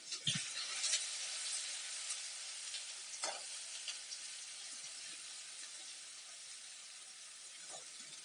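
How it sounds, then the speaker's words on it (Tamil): Garlic, fennel seeds and curry leaves fry and sizzle in hot oil while a spoon stirs them in a pan, a steady close crackle with a few scraping knocks and no talking. "பூண்டு இதை வந்து சேர்த்திக்கலாம். இதோட பச்சை வாசனை போகிற அளவுக்கு நம்ம வந்து ஃப்ரை பண்ணிக்கலாம்."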